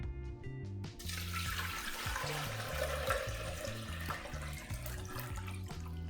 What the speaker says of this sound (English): we're going to add in some water